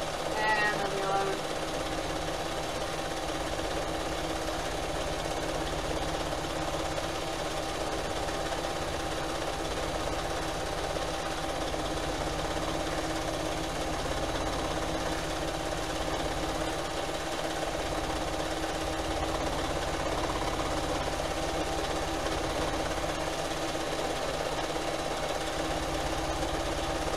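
A sewing machine stitches while quilting, a continuous mechanical whirring drone that runs steadily throughout, with a voice faintly present underneath.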